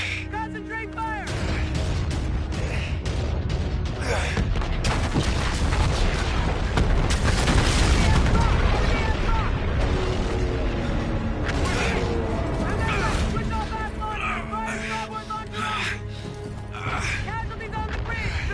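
Naval battle in Call of Duty Infinite Warfare, with continuous heavy booming gunfire, explosions and mechanical rumble filling the scene while voices shout orders over the din.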